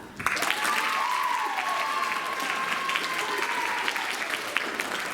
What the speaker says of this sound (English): That is the part where you clap.